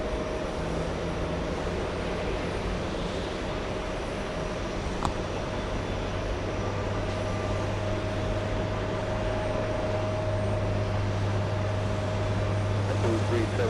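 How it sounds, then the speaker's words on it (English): Delta Airlines flight 267 arriving from Paris, a steady distant jet engine roar with a constant tonal whine over a low rumble, heard from an airport lounge. "let's go for the Delta Airlines 267 flight,"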